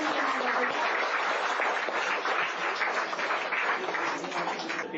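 Congregation at a church gathering applauding to welcome a pastor forward: dense, continuous clapping from many hands throughout, steady and fairly loud with no break.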